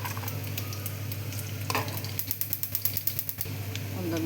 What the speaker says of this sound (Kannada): ಒಂದು ಮೀಡಿಯಮ್ ಸೈಜ್ ಈರುಳ್ಳಿನ ಸೇರಿಸ್ತಾ ಇದ್ದೀನಿ